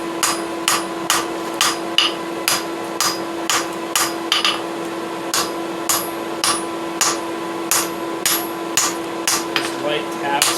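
Hammer blows strike layered Damascus steel on an anvil for a forged knife, a steady series of about twenty sharp ringing hits at an even rhythm, close and loud over a constant background hum.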